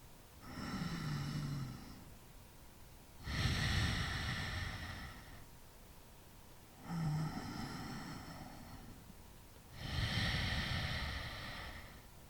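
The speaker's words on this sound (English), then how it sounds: "2 more breaths here." Slow, deep breaths during a yoga class: two long inhale and exhale cycles, each lasting a couple of seconds, close to the microphone and loud and airy, with quiet pauses between them.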